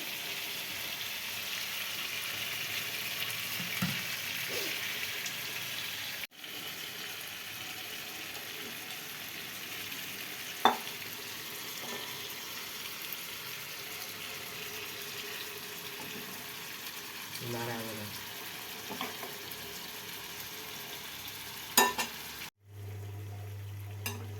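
Chicken for tandoori chicken is sautéed with spices in a pan, making a continuous hissing fry broken by occasional clanks of a utensil and a couple of brief drops to near silence.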